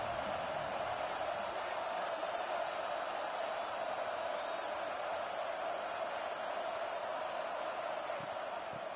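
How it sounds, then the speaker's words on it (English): Stadium crowd noise from a college football video game, a dense, steady roar of many voices that holds at an even level throughout without distinct cheers or peaks. "This crowd ready to make its presence known."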